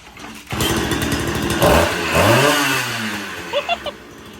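A go-kart engine fitted with a homemade muffler kicks into life and runs close and loud, its buzzy drone climbing through a couple of rising revs before easing back with a few short blips.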